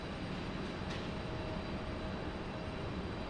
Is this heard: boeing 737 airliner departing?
yes